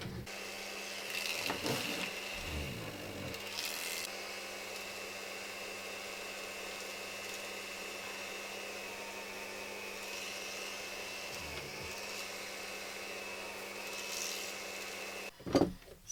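A polishing machine buffs jewelry with rouge compound, a steady motorized whir that holds at an even level throughout, with a couple of brief louder bumps near the start and end.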